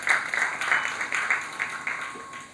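A short burst of applause welcomes the chairperson at a women entrepreneurs' meet and greet. Scattered claps from a modest crowd sound fairly close and thin out toward the end. A faint steady hum runs underneath.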